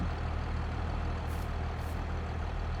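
Tractor engine in a farming video game running steadily with a deep, constant low rumble, close and unbroken throughout, with no talk over it.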